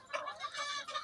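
Mixed-breed chickens on a Moroccan poultry farm cluck in short, close bursts, several soft calls overlapping in quick succession.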